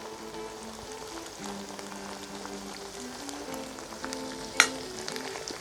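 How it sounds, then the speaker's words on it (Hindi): Aloo methi curry, potato and fenugreek with fresh coriander, stirred in a pan, giving a steady soft sizzle and scraping throughout with one sharp clink near the end. "इसको अच्छे से मिक्स कर लें।"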